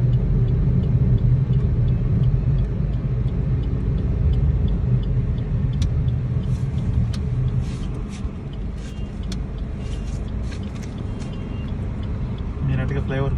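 A Maruti Celerio car with about 50,000 km on it, treated with a carbon-cleaning additive, heard from inside while driving on the road: a steady low engine and road rumble, with faint rattles and ticks creeping in later.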